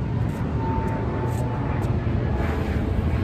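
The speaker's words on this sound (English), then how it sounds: "Planes overhead, boats in the sea." Airplane passing overhead at an outdoor riverside park in Miami, a steady broad low rumble holding at an even level throughout, with faint background activity.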